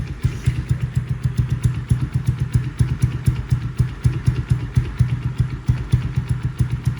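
A Yamaha Mio scooter idles through a Shijiro Kenochi exhaust with a dB killer fitted, giving a close, steady, loping putter with rhythmic pulses and no talking.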